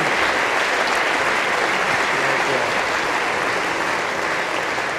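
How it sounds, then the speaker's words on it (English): A large crowd applauds steadily at the Westminster Town Hall Forum, a dense wash of clapping for singers that stays loud and even throughout. "one more round of applause for singers of this age"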